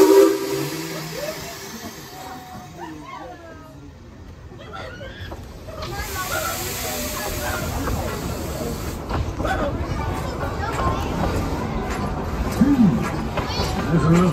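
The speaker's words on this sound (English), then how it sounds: "our train is being pulled by an authentic coal-fired steam locomotive" Steam hissing from a coal-fired steam locomotive with short whistle-like tones, amid a babble of distant voices and general outdoor bustle.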